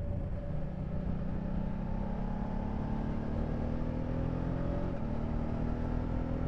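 A 2023 BMW F850 GS Adventure motorcycle being ridden, its engine droning steadily with smooth pitch rises and a gear change, wind rush underneath, close and continuous without talk.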